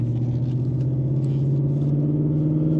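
A Ford Mustang GT S650 with its exhaust valves open, giving a steady, deep, loud rumble from a cruising engine, with no talk over it.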